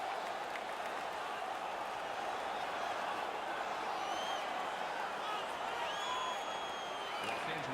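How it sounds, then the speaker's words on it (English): A steady, distant arena crowd roars and cheers in the NHL 17 ice hockey video game as the home LA Kings roll over the visiting Atlanta Aces, a continuous even wash of noise. "The crowd is all over them right now."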